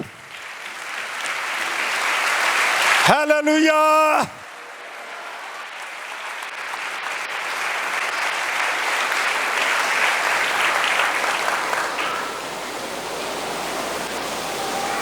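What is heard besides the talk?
congregation applauding during church sermon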